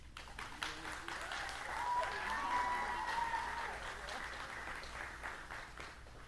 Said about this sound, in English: I feel very energized after hearing those awesome cheers